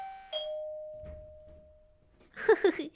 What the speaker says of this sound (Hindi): घर की घंटी बजती है